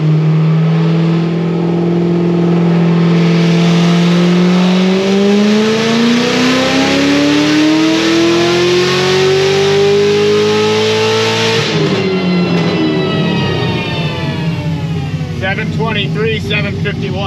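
Loud, close engine of a car on a dyno during a cold power pull, revving steadily upward for about twelve seconds before cutting off, then settling and idling with some rattling; a voice may speak faintly under it.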